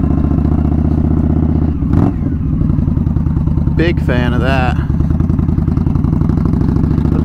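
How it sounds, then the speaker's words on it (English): A 2019 custom Indian Scout Bobber motorcycle's exhaust rumbles loudly and steadily throughout, close to the rider, with a brief voice heard over the engine note. "The exhaust sounds insanely good."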